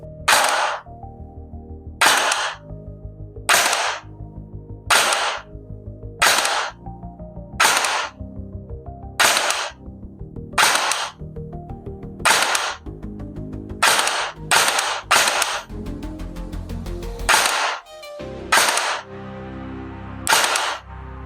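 A CYMA M16A4 metal gel blaster fires gel balls in a small tiled bathroom, about sixteen sharp, loud single shots at uneven intervals, each with a short mechanical clack and a brief echo, with no talking.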